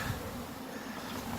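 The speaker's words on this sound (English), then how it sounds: "the bees are dumped out of their box and in their hive." Bees buzz in a hive after being shaken out of their box, a faint, steady, unbroken hum that holds evenly throughout with no voices.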